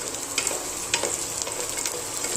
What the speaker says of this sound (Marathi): कांदा फ्राय होतोय आणि तो चांगलाच फ्राय होऊन द्यायचा आहे